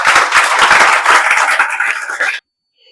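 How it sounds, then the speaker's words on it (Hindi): An audience claps together in a loud, dense burst of applause lasting about two seconds, then stops abruptly. "तो इन माता पिता के सम्मान में तो ताली बजना ही चाहिए।"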